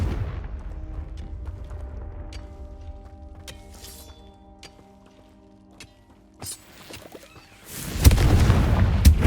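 A Confringo fire spell in Hogwarts Legacy: quiet game clicks and light mechanical sounds first, then a short burst, then a loud, booming explosion that rumbles on to the end.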